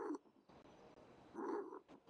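A rabbit purrs in the game GTA V as two short, low, rumbling bursts with a pause between them. The sound is faint and plays alone, with no talk over it.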